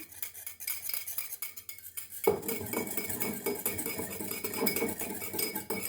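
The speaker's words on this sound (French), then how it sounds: "Et je vais mélanger avec mon fouet." A whisk briskly stirs matcha with a little water in a bowl, a near, steady scraping and tapping of rapid clinks that starts after a quiet moment and continues without talk.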